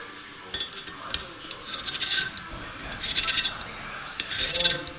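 A valve seat chamfer being cut on a Renault Kangoo 1.5 dCi cylinder head, a close, irregular metallic rasping and scraping in short bursts, moderately loud, with a voice speaking over it.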